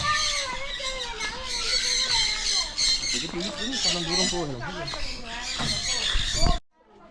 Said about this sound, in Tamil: பறவைகளோட சேர்ந்து அந்த சத்தத்தோடு சேர்ந்து